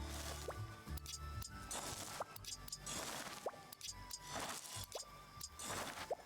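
Watering plants in Hello Kitty Island Adventure: a run of soft, wet drips and plops with small squishy splashes repeats steadily at close range over a light game music bed, with no talk.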